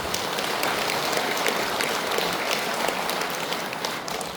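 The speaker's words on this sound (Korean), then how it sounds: "오늘 봉사해 주신 우리 형제 여러분에게 뜨거운 찬탄을 박수 부탁드립니다." A large crowd at a Buddhist dharma service claps steadily, a dense, sustained patter of many hands that holds at an even level throughout.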